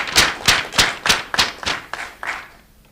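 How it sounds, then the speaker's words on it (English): Conference audience applauding after a policy presentation, heard as about eight distinct, evenly spaced loud claps that fade out near the end, with no talk. "A big round of applause for her."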